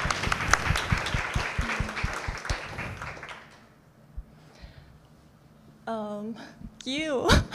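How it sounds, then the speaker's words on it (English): An audience at a live talk-and-performance evening breaks into a round of applause, a dense burst of clapping that fades out after a few seconds, followed by quieter room sounds and brief voices. "So will you join me in one more round of applause for Ross Perlin and his work at the Endangered Language Alliance?"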